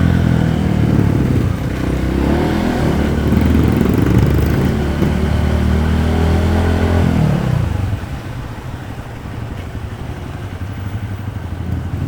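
A Honda CRF supermoto motorcycle engine runs loud and close at night, a steady rumbling drone that settles to a quieter, lower idle partway through, with no talking.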